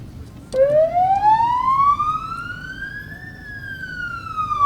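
An emergency ambulance siren from a medical crew in Rivne, a loud, close wail that rises slowly in a long sweep and then starts to fall, over low traffic rumble.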